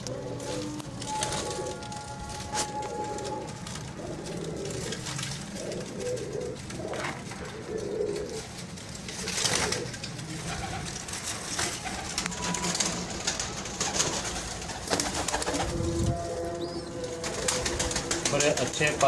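Breeder pigeons coo steadily in a loft, a continuous layered murmur of many birds close by, with occasional wing flaps and someone talking over them.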